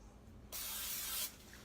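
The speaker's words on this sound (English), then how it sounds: "You spray the Pam" Pam non-stick cooking spray hisses from the can into a heated pan in one steady burst of under a second, close and fairly loud, with no talk over it.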